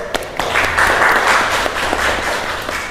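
Brief, scattered clapping from a small audience at a university journalism class, a thin burst of applause with separate claps audible, lasting a few seconds.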